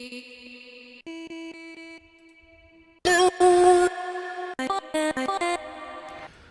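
Chopped vocal samples from the Vocal Synapse Volume 1 sample pack: short pitched vocal fragments start and stop in stuttering bursts, turning louder and denser midway before trailing into quieter sustained notes.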